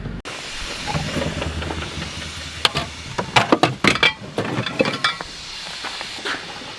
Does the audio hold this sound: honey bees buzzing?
no